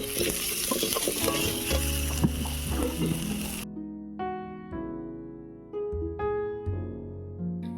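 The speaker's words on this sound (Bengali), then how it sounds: "এবারে ভেজে নেব আলু আলুর মধ্যে দিয়ে দিচ্ছি অল্প একটু নুন আর দিয়ে দেব অল্প হলুদ গুঁড়ো" Potato pieces fry in a pan with a little salt and turmeric: a loud, dense sizzle fills the first half, then gives way to a quieter stretch of ringing metallic clinks and scrapes from stirring, with no voices.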